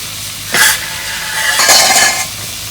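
Pieces of a big pangas fish fry in a pan under a faint sizzle, interrupted by two close, bright bursts of metal utensil scraping and clinking against the pan.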